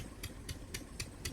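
Irrigation water pump engine running in a rice paddy field, a quiet, steady low mechanical drone with a regular rhythmic pulsing roughly every quarter second, heard faintly from nearby.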